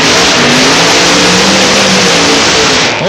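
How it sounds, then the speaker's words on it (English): Two alcohol funny cars with 540-cubic-inch engines do burnouts at a drag strip, a loud, sustained, roaring blare with rising engine pitch that holds throughout and dips at the end. "Look at the burnouts by both the alcohol funny cars."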